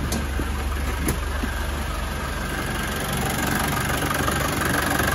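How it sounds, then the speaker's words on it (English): A 1990 Land Rover Defender 200Tdi diesel engine idles continuously at close range, a low, even rumble with no voices and no change in pace throughout. "Engine's running nice and smooth."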